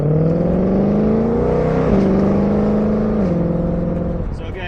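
A 2021 Shelby GT500's engine drones loudly and steadily at close range in normal exhaust mode, its pitch stepping slightly as gears shift, a deep exhaust rumble throughout.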